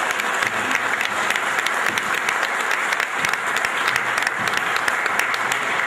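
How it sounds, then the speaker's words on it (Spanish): Sustained applause from an audience at a Spanish-language talk, dense and steady for about six seconds, filling the room evenly with no voices over it. "agradecerle y renovar el aplauso para el licenciado Martín Toselli, para Gerardo Caletti y Rubén Luna."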